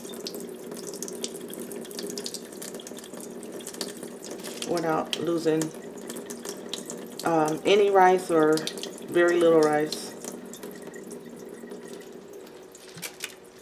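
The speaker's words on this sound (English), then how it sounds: "I kind of close the top a little bit and pour the water out like that." Water is poured off rinsed rice from a lidded container held partly closed, a steady splashing pour under a voice, with brief talk in between.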